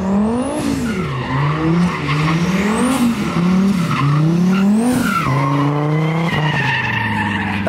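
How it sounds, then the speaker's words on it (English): Loud, continuous tire squeal from a car drifting at a free drifting event, with a rising and falling engine rev that wavers through the slide and does not let up. "That drift was also like smart."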